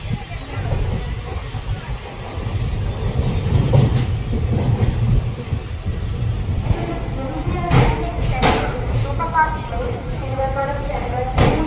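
The Kottayam Express runs along the rails in Kerala, with a continuous low rumble and occasional clatter from the moving carriages and people talking over the noise throughout.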